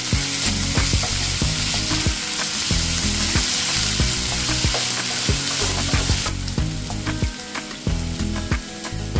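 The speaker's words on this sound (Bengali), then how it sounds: "এবার দিয়ে দেবো আদা রসুনের পেস্ট, দিয়ে ভালো করে সটে করে নেব।" Ginger garlic paste sautéing in hot oil for a Bengali chicken curry, a loud, dense sizzle with rhythmic stirring scrapes close by and no talking.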